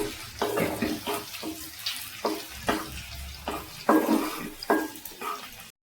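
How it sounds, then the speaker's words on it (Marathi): Ginger, garlic, coriander and green chilli sauté in hot oil, a steady crackling sizzle broken by repeated scraping stirs at a fairly even rhythm, close and moderately loud with no talking. "तेल गरम झालंय, आता आपण आलं लसूण कोथिंबीर टाकू, मिरची टाकू. थोडं परतून घ्यायचंय."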